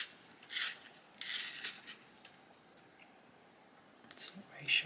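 A Prismacolor colouring pencil is twisted in a small handheld sharpener in a quiet room, giving three faint rasping bursts of scraping wood and lead, separated by pauses, with soft movement noises in between.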